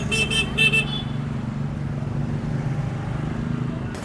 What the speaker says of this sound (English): So busy, very noisy, lots of motorbikes.